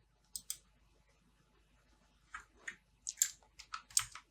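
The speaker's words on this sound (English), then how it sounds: "the next step is to click on create" A computer mouse clicks on a button in Adobe InDesign software, two crisp quiet clicks early on, then a quick cluster of small clicks and taps a few seconds later, close by and alone.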